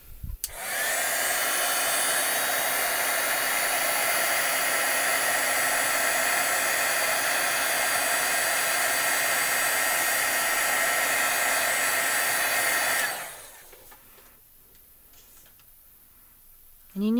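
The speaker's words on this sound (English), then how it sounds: "So now we're going to heat this up." A heat tool warming glue for glitter on a handmade card blows a loud, steady whoosh for about twelve seconds, then clicks off, leaving quiet room sound.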